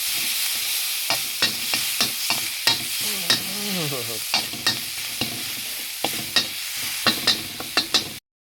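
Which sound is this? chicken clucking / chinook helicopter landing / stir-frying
stir-frying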